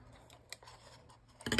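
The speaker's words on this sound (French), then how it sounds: "Je vais juste prendre mes ciseaux pour enlever l'excédent de ruban qui me gêne." Scissors snip through excess ribbon during a Christmas scrapbooking craft, a few faint, quiet cuts followed by a louder rustle at the end, with no talking.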